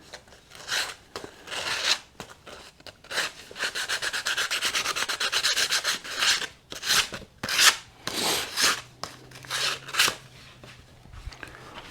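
The edges of a guitar backplate are sanded by hand with sandpaper in repeated rubbing strokes, one long continuous stretch followed by shorter back-and-forth passes, close and fairly soft.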